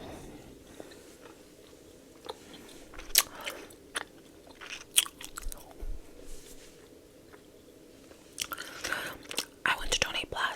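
Bubble Yum bubble gum being chewed close to the microphone, with soft wet smacks, squishes and occasional sharper snaps in an irregular rhythm over a quiet background.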